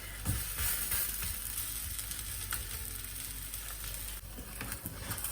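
Chickpea flour pancake (besan cheela) frying in a hot pan, giving a steady, dense sizzle that runs throughout at moderate volume with no talking.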